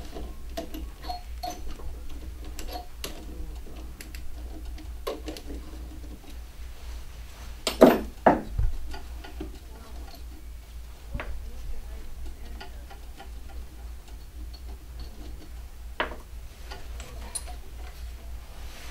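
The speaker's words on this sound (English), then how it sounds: "we can now proceed by loosening the 4 12 millimeter nuts with a socket wrench" A socket wrench ratchets while loosening four 12 millimeter nuts on the pump of a Dynamelt S hot melt unit, producing faint, rhythmic clicking with a few louder clanks in the middle.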